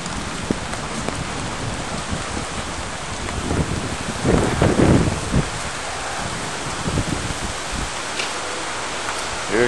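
Heavy rain pours steadily during a thunderstorm in Houston, Texas, a dense broadband hiss with a louder surge and rumbling swell midway, close and continuous with no voices.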